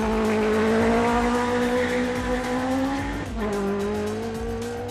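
Citroen C2 race car climbing a hillclimb course, its engine loud and close with a rising whine, a brief dip and shift near the end of the climb, tire noise underneath and no talk.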